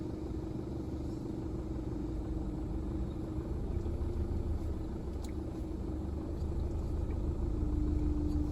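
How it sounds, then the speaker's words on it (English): Steady low engine rumble from a large ute (pickup truck) while driving, a continuous drone with road noise running throughout and no voices. "doesn't help that I'm in the truck, or ute, whatever you want to call"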